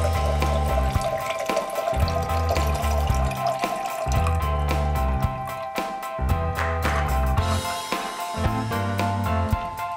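A cocktail is poured through a strainer into a glass, a continuous liquid trickle and splash heard over rhythmic background music.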